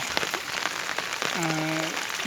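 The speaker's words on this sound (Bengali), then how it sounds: "এদিক দিয়ে জমির উপর দিয়ে বৃষ্টি আসতেছে বৃষ্টি পানি আসতেছে" Steady rain falls and patters over farmland and rice paddies throughout, with a brief voice-like tone rising over it midway.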